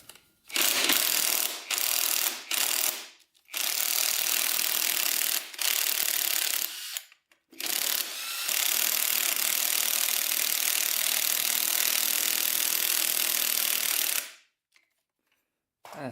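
A wrench works at a stuck Allen bolt on the rear brake lever of a vintage Honda CR250 dirt bike, giving long bursts of dense grinding, ratcheting clatter broken by brief pauses, loud and close, with no talk.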